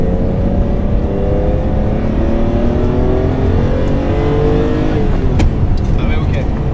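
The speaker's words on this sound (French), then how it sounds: "Donc c'est un moteur très coupleux en bas et pointu en haut." A Ferrari engine, torquey low down and sharp at the top end, pulls hard in gear from inside the car, its drone climbing steadily before a shift near the end. A voice talks over it.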